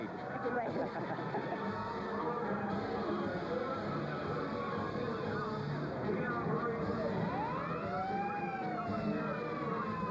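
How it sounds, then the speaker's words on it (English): Wailing emergency vehicle sirens rise and fall at a Thanksgiving Day parade, fairly distant under steady crowd and street noise with people talking throughout. "I hear sirens."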